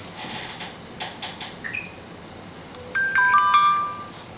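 NO.1 Watch S3 SIM-card smartwatch gives a short electronic notification chime for an incoming SMS, a few bright tones after some light tapping, close and clear.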